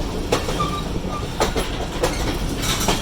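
An express train runs along the rails on a journey from Nawabshah to Karachi, a loud steady rumble with periodic clickety-clack bursts from the wheels passing rail joints, heard from on board.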